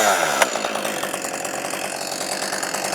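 A Husqvarna Auto Tune chainsaw runs steadily and loud throughout, its engine buzz continuous with a brief sharp tick near the start, no voices over it.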